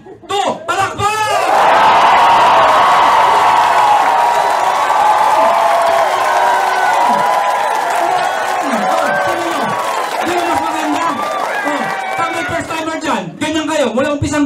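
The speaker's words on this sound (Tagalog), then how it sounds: "Sabay-sabay tayo ha? Lahat papalakpak ha? 1, 2, palakpak!" A crowd cheers, whoops and shouts continuously at a live show, with a loud, dense roar of voices sustained throughout and some clapping mixed in.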